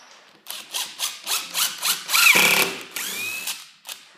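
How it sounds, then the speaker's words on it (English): A power drill whirs in short repeated bursts, rising and falling in pitch as it drives a screw, close and loud, ending with a longer spin. "put the screw into the hole and drill"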